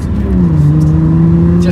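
Classic Audi B4 Coupe engine pulling under acceleration on a quiet road, a steady droning tone rising slightly in pitch as it revs, close and continuous from start to finish.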